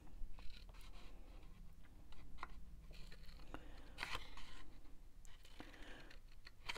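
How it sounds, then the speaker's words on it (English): Scissors snip into cardstock tabs up to a score line for a handmade octagon gift box, making quiet, close crisp cuts and paper rustles in short irregular bursts. "So you just want to cut up to the first score line."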